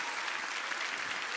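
Church congregation applauding at a worship service, a steady wash of clapping at moderate distance, brief and continuous without voices.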